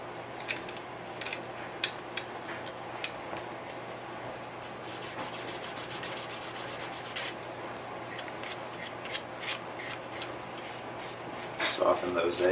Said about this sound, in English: I'm going to use some 220 paper